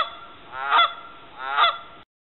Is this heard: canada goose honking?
yes